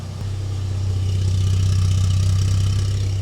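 A Porsche 944 four-cylinder race car engine idles loudly and close, a steady low rumbling exhaust pulse with a slight rise in intensity partway through.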